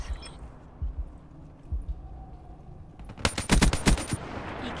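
Video game gunfire erupts as a rapid automatic burst after a few scattered distant shots over low background rumble.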